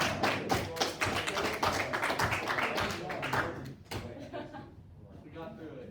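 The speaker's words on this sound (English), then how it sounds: "Who started clapping?" Students clapping in a classroom, a run of close, sharp claps with voices mixed in, thinning out and fading toward the end.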